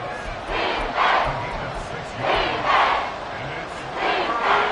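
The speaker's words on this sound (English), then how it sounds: "The Arrowhead crowd in full roar." A stadium crowd roars in a Chiefs v Broncos football video game at Arrowhead, a loud, steady wash of cheering that swells in waves about every second and a half and carries on without a break.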